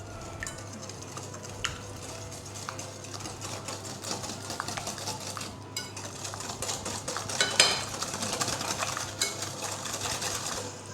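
Yogurt cake batter is stirred by hand in a bowl, producing steady close scraping and clinking of a utensil against the sides, with irregular taps and a busier stretch toward the end.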